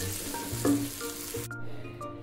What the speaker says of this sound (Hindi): इसमें हम डालेंगे प्याज और इनको हम कर लेंगे गोल्डन।